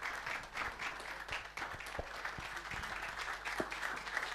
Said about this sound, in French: ça mérite des bons applaudissements